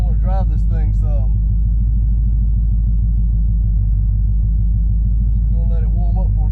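A 1968 Dodge Charger engine idling while it warms up, a steady deep rumble that runs loud and continuous, with someone talking over it at the start and end.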